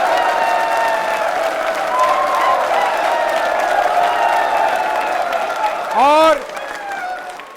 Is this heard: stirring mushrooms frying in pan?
no